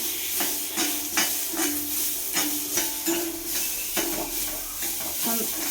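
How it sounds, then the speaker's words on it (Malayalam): Chopped shallots sauté in a pan, a bright sizzle broken by regular stirring strokes that scrape and clack against the pan, close and with no one talking. "നന്നായിട്ട് വഴറ്റിയെടുക്കണം."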